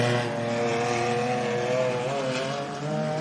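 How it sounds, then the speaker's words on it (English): A 3.5-litre twin-turbo race car roars on a dirt track, its engine note loud, sustained and close, with the pitch shifting slightly as it works the throttle. "That car just sounds like it torches the dirt."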